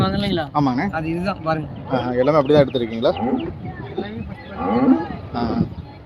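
Cattle lowing and bellowing at a busy livestock market in Karungalpalayam, Erode, several loud drawn-out moos in a row close by, with people talking around them.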